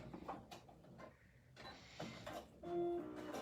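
A sewing machine topstitches fabric for a craft basket of chicks and dinosaurs, giving a close mechanical whirring with clicks that come in short bursts and pauses, with no talking.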